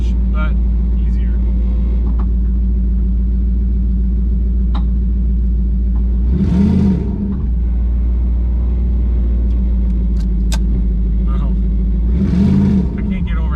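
Car fitted with a new loud exhaust, driven with manual brakes, booming steadily from inside the cabin as it accelerates, with two brief louder surges, one near the middle and one near the end.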